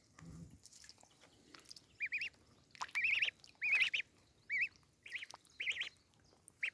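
A duck calls repeatedly close by, giving a series of short squawking quacks in uneven bursts after a brief low rustle at the start.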